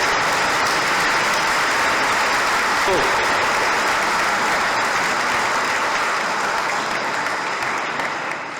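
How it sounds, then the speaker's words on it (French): Congregation applauding during a back-to-school church mass, a loud, dense, sustained wash of clapping that fills the whole stretch and fades slightly at the end. "On va lui donner une bonne main d'applaudissement."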